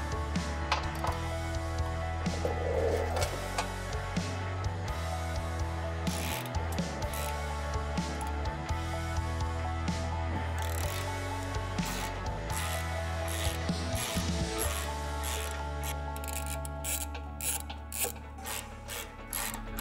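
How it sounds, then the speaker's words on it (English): Ratcheting wrench loosening and removing the 15mm bolts that hold the crash bar on a 2015-2020 Chevy Colorado, with steady mechanical clicking and metallic turning sounds up close, no talking. "remove these 4 15mm bolts holding on the crash bar"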